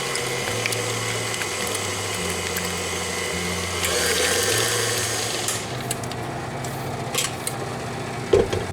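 An electric mixer whirs through whipped cheesecake filling with maple syrup, a steady droning motor hum that shifts pitch as the speed rises, then settles into a rougher grinding churn with a few clicks near the end.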